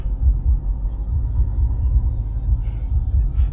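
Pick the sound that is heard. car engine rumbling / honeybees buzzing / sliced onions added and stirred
car engine rumbling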